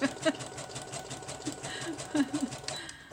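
A sewing machine stitches lace onto book pages, a soft, steady mechanical whir heard close up under a faint voice.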